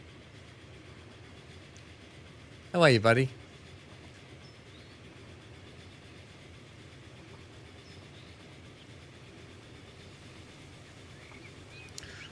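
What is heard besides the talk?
steam engine train in Transport Fever 2 video game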